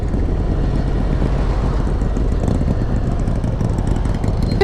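Steady, loud riding noise from a Harley-Davidson Fat Bob 114 motorcycle, its engine drone mixed with wind rush throughout, with no clear speech over it.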